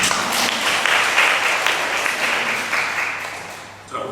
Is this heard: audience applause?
yes